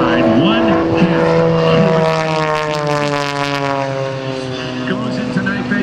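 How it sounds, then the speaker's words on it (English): A CAP232 aerobatic plane with a Lycoming engine and MT propeller performs at an airshow, its loud propeller drone rising and falling in pitch as it maneuvers, continuous throughout while an announcer talks over it. "Listen to that power of that Lycoming engine and the MT propeller combination pulling this CAP232 through the skies."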